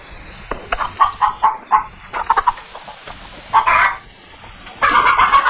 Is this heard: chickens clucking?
yes